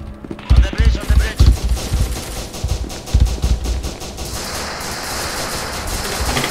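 Gunfire in the SCP: Secret Laboratory video game: a rapid volley of loud, punchy shots with irregular bursts, close, followed by a dense hissing wash.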